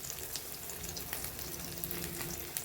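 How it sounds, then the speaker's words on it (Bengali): Fish frying in a pan at home, a steady broadband sizzle holding evenly throughout with faint crackles, close and moderately loud, no talk. "তো এই মাছগুলো আগে এইভাবে ভাজবে"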